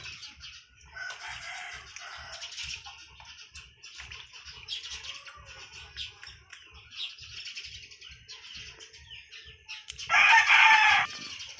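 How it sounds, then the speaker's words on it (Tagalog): Neighbours' chickens cluck steadily through a Filipino home kitchen while fish cooks, with a rooster crowing loudly and close near the end over the background poultry noise. "meron tayong background na manok. Dami kasing manok dito sa kapitbahay namin."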